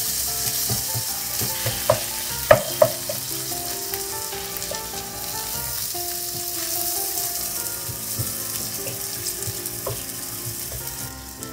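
Food stir-frying in a pan hisses loudly and steadily, punctuated by a few sharp clacks early on, with faint tonal background sound running beneath the sizzle.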